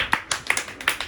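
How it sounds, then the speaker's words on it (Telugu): A few children give quick, uneven claps for the winner of a find-the-ball game, five or six sharp, close hand claps scattered over a second. "అందరూ కంగ్రాట్స్ చప్పట్లు కొట్టిన హవీలాకి"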